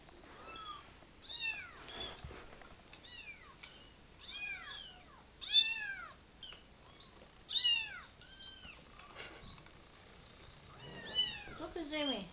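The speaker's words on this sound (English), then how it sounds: "Come get the kittens." Several kittens meow repeatedly in short, high, rising-and-falling cries, clustered in bursts with brief pauses between, fairly close and moderately loud.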